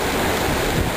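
Rushing water from river rapids just upstream of a ditch monitoring site, a dense, steady broadband roar that fills the short moment without a break, close and loud, with no voices.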